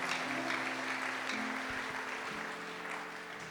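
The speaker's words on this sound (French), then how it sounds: "nous acclamons très fort le Seigneur" A church congregation applauding and cheering during a worship service, a dense steady wash of clapping and crowd noise throughout, slightly fading toward the end.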